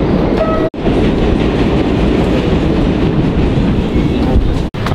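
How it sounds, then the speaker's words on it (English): A New York N subway train rumbles along loudly and steadily, wheels clattering over the rails, with two brief dropouts in the noise. "Oh, this is the N train."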